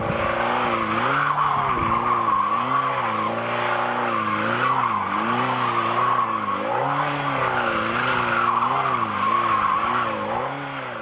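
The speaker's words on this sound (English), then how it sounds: "It's no big deal if you fall off doing a burnout because you're not really moving." Motorcycle burnout with the rear tire skidding and squealing continuously, a loud, sustained screech over a steady wavering engine drone that rises and falls in repeated surges for the full length.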